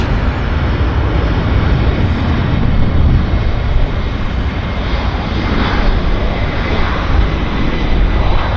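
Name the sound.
airliner taxiing at Vancouver airport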